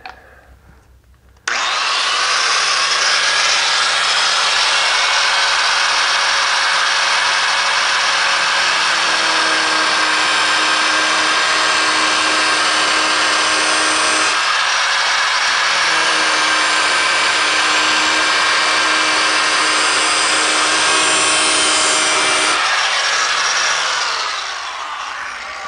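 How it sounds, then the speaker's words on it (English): An angle grinder cuts into a car's metal fender in one long, loud, continuous whine that shifts pitch slightly as pressure changes, running alone for over twenty seconds before spinning down. "I've now got this fender ground out to the point where the tire is never going to touch it."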